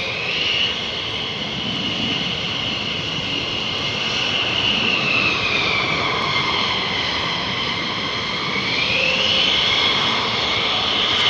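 A fighter jet engine is cranked over on the ground at RAF Lakenheath, giving a steady, loud whine and roar with shifting high tones that rise and fall through a sustained broadband rumble, heard alone.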